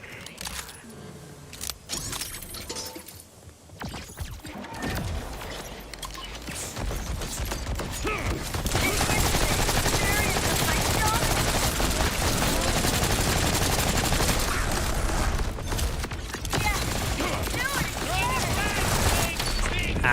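A fast-firing gun in Borderlands 4 unloads a long, loud, continuous stream of shots after a sparser start of clicks and scattered game noises, with a voice talking at times over the action.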